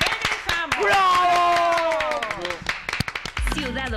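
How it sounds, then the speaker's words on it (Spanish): Studio audience clapping on a live television variety show, a burst of sharp, scattered hand claps that rises under an excited host's voice and tails off as the segment ends. "¡Un aplauso!"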